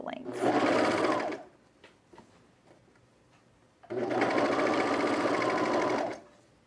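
A sewing machine stitching a pullover camp shirt runs in two loud, steady bursts of about three seconds each, separated by a quieter pause with faint handling clicks.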